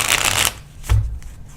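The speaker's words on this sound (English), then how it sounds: "trying to shuffle and the cards just literally go" Tarot cards being shuffled clumsily, a dense papery riffle for about half a second followed by a softer flick and a low thump as cards spill, with faint handling afterward.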